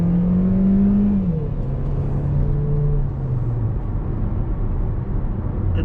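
A 2020 Mercedes-Benz A180 (W177) engine hums steadily, its pitch rising and then settling as the car accelerates, heard from inside with no talking.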